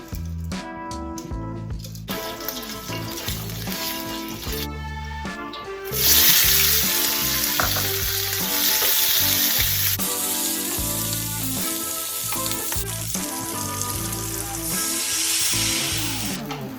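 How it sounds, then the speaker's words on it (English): Chicken wings frying in a hot wok for Kung Pao wings, a loud sizzle that surges as pieces go in, with music playing throughout. "Chicken wings. Get my wok going."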